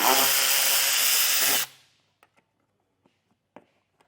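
A power driver with a T15 Torx bit whirs loudly and steadily for about a second and a half to back out a fastener on a vehicle, then stops, followed by a few small clicks and taps.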